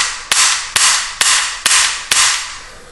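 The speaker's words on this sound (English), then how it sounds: "you can pull the hammer back manually just by pulling it back" A Win Gun CO2 1911 airsoft pistol gives five sharp, loud metallic clicks at even intervals close up, each followed by a brief fading ring, with no speech.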